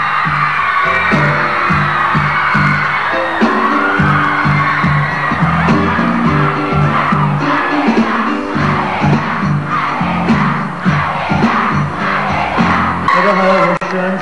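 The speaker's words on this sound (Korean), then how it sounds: "이렇게 환호해 주셔서 감사합니다" An award-ceremony audience in China cheers and screams for a Korean singer, a loud, sustained crowd of shrieking fans with rhythmic chanting bursts over stage music.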